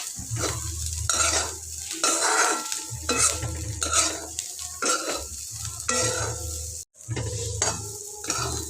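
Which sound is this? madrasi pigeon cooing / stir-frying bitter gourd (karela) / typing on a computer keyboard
stir-frying bitter gourd (karela)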